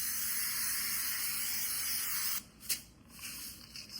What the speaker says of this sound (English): spray it with some olive oil.